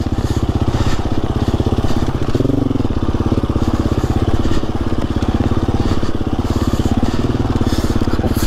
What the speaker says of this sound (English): For when doing the off-road enduro bike.